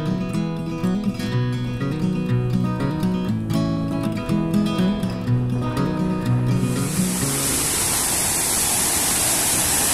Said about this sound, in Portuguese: Olha o barulho da água aí, ó. Descendo nas pedras.